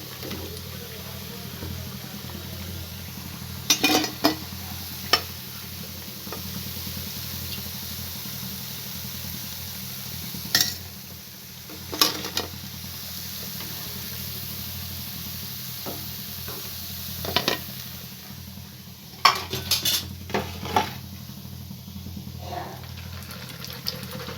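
Semolina pieces deep-frying to a brown colour for a sweet, giving a low, constant bubbling sizzle with occasional sharp clinks and scrapes of a utensil.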